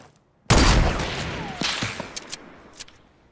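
Gunfire in the Fortnite video game: a loud, close blast opens into a dense burst of shooting, followed by several sharper, scattered shots that fade out.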